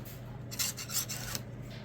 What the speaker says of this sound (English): You just need to put this cleaning rod back in place.